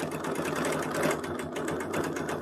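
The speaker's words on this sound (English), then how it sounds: "I can sew back around to that and go that way." A sewing machine stitches a quilt in a steady, fast, even needle rhythm, close and fairly quiet, running without pause and with no talk.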